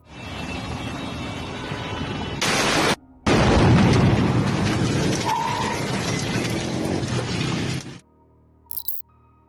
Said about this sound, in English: the sound of an explosion now signals the growing shadow of criminal control.